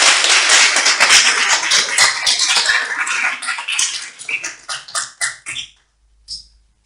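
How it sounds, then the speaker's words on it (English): Another round of applause at a political rally for a running mate: dense crowd clapping that thins into scattered individual claps and fades out near the end. "I think she deserves another round of applause."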